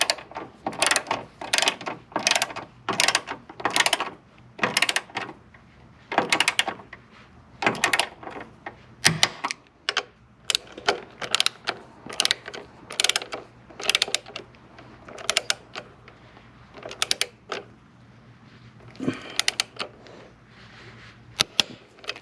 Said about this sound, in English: Already had my torque wrench ready to go.